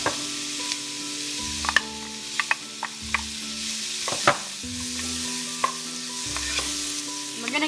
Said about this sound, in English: we're going to melt the butter and saute the onions